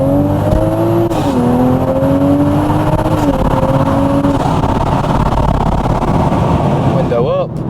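A Toyota GR Supra with a titanium exhaust and aftermarket intake accelerates hard at night, its engine note climbing through the gears with a short shift break before settling into a loud steady roar.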